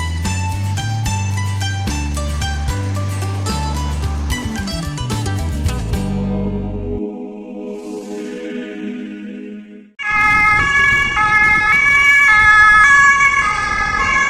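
A police car siren passing through a plaza, loud and close, cycling through wailing and stepping tones that sweep down, drop away briefly, then return at full strength over road noise.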